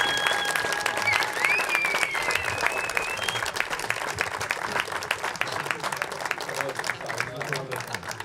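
Crowd at the Bučovice Blind Football Cup 2024 gives sustained, dense applause, with a few whistles and shouts rising over the steady clapping.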